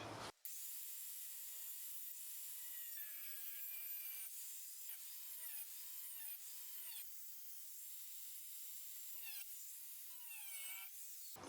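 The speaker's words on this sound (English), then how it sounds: "So I'm just going to notch that out, cut that out." A shrill, steady whine of a high-speed cutting tool notching a metal panel on a Ford ZF Fairlane, with brief dips in pitch as the blade bears down, running continuously.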